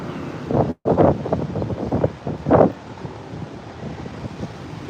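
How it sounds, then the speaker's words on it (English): Gusts of wind buffet the microphone in loud, uneven bursts, with a brief dropout and a steady rushing roar underneath. "you're gonna hear some wind"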